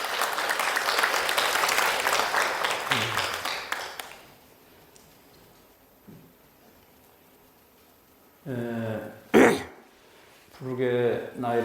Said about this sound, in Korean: 지금부터 조계종 불교중앙박물관장이신 탄탄스님의 법문을 큰 박수로 청해 드리겠습니다.